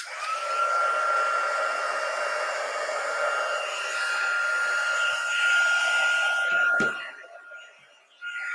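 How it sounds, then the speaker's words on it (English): A heat gun blows a loud, steady whir close by, melting embossing powder for a Christmas cracker treat box, then clicks off near the end. "I'm gonna turn on my heat gun"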